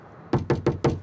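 Four sharp knocks on a door by police, evenly spaced and loud, close by, with no talking over them.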